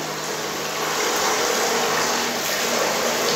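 Water gushes and pours in a steady, loud rush as balloons are filled for Holi play, continuing without a break and without talking.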